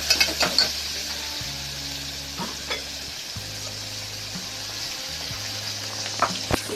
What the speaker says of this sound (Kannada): ಜೊತೆಗೆ ಈಗ ಪುದೀನ ಆ್ಯಡ್ ಮಾಡ್ತೀವಿ ಜೊತೆ ಫ್ರೈ ಮಾಡ್ತಿದ್ದೇನೆ